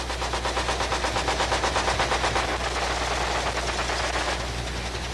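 Machine gun on a Vietnam War gunship fires a long, rapid, continuous burst, heavy and pulsing over a constant low engine drone, with no speech.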